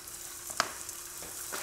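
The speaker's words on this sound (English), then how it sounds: "meat right there in the oil and just watch when it starts sizzling" Sausage fries in hot oil in a pan with a soft, steady sizzle under a few faint clicks and crackles. The sound stays low and close, with no voices.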